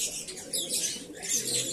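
Pigeons at feeding time, including white birds: bursts of wing flapping close by with soft cooing and chirps mixed in, and no talk.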